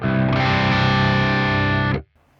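A heavily distorted electric guitar chord through the Kraken amp model on Neural DSP CorOS 3.0.0 rings out thick and sustained for about two seconds, then cuts off abruptly into near silence.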